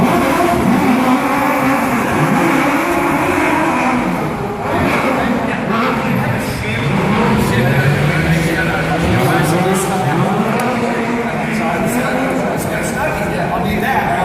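Stunt cars at a Disney World auto show drive past and rev their engines, a loud continuous roar with rising and falling revs while an announcer talks over the action.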